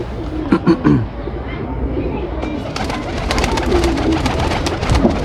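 Teddy pigeons coo softly in a rooftop loft amid steady background noise and chatter, with low rolling coos near the start and again toward the end, partly masked by people talking nearby.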